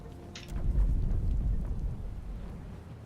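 Thunder rumbles low and heavy through a rainstorm in the fantasy role-playing game Pillars of Eternity II: Deadfire, rising into a deep roll before fading under steady rain, with no talking.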